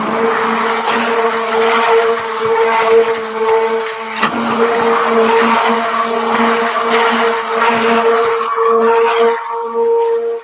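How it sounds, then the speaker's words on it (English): A stick blender whirs continuously, loud and close, as it blends a soap mixture for English for Men soap, with a brief dip in the middle before running on steadily. "I'm going to stick blend all this in"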